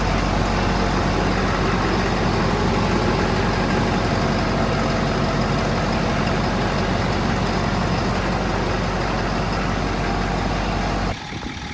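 A Ford 6.7 Power Stroke diesel engine idles steadily on its first start-up after a build, a loud, dense, continuous rumble heard close up that cuts off sharply near the end, with no talking.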